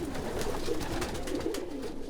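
Pigeons coo inside a crowded loft built for 120 pairs, soft overlapping low throaty calls rolling continuously at close range, with no talking.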